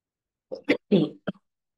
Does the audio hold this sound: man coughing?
yes